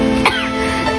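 One short, sharp cough up close, over a steady background hum.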